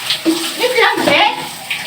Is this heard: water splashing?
yes